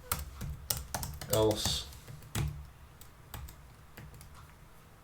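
Code is typed on a computer keyboard in quick, irregular bursts of close key clicks, with a brief spoken word mixed in.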